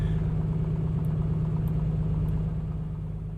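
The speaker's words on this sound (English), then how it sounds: "let me just turn down the engine noises" Piston aircraft engine drone of an A2A Comanche in a flight simulator, a steady loud low hum with an even texture throughout and no talk.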